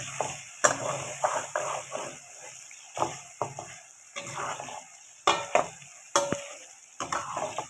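Steady sizzling of chicken frying in a pan with garlic ginger paste for chicken karahi, with repeated scraping and clinking of a utensil stirring, close and moderately loud, no speech.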